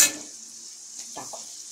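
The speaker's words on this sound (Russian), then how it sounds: "вот так вот жарится" Steady sizzling of carrots with grapes and spices frying in a pan, a constant bright hiss with a couple of faint clinks partway through; no voices.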